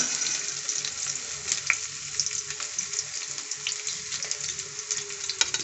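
Chopped onions sauté in a pan for drumstick curry, giving a steady, close hiss and sizzle with light stirring scrapes throughout.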